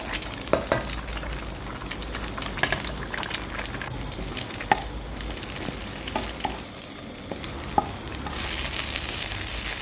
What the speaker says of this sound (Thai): เราก็จะเอากุ้งแห้ง ใส่ลงไปผัด